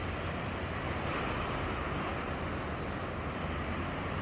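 Caribbean Sea surf washing onto a Cancun beach, a steady broadband roar of waves with wind buffeting the microphone, continuous and fairly loud with no talking.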